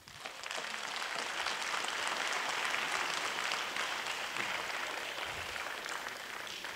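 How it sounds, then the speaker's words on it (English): An audience at an a cappella competition gives a round of applause, a broad, continuous wash of clapping that swells quickly, holds steady and begins to taper near the close. "Let's give them all a round of applause."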